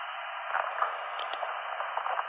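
Radio handset transmission with a weak, unreadable signal: steady band-limited hiss and static fills the whole stretch, with faint crackles and brief garbled bursts and no clear voice coming through.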